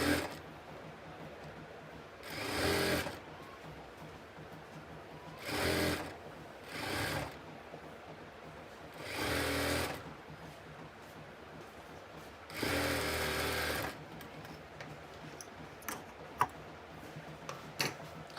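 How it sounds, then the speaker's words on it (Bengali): A sewing machine runs a double-stitch seam on a kameez in several short, loud whirring bursts, separated by quiet gaps and a few light clicks. "এখানে কিন্তু আমাদের ডবল সেলাই অবশ্যই দিয়ে দিতে হবে।"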